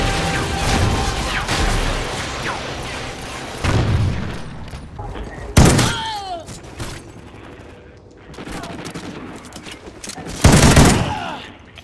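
Gunfire in a video game cracks out in several loud, sharp bursts over a busy background of game noise, with people talking throughout.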